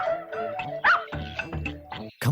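A dog yelps and barks in a series of short, excited, whiny bursts at close range, loud and insistent.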